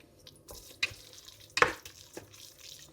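Chicken biryani masala with garam masala being sautéed in a pan for Kerala chicken biryani, a low sizzle under a few scraping stirs and sharp spoon knocks, close by.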